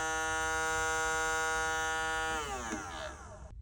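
A sewing machine's bobbin winder running with a steady, high, buzzing electric whine, close and continuous, that shifts and winds down in the last second.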